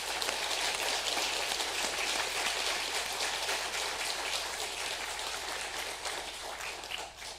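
A church congregation at a Sunday worship service applauds its pastor, a dense, steady wash of many hands clapping that fills the room and fades slightly toward the end.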